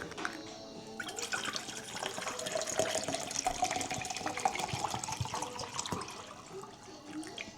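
Water pours steadily into a lunch container for tortellini, a continuous close splashing rush lasting several seconds with no talk over it.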